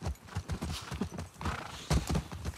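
Horse hooves clip-clop at a steady walking rhythm in The Last of Us Part II, close and fairly loud, with a brief snort or whinny and light ambient game sound.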